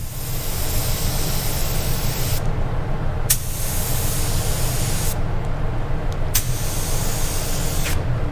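Spray paint hisses onto a painted panel in long, loud, continuous bursts, with a few very brief pauses between passes.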